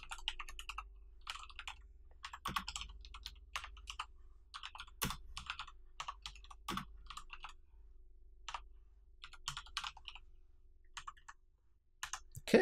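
Someone types rapidly on a computer keyboard while writing web code, a close, quiet stream of clicky keystrokes in uneven bursts with short pauses between them.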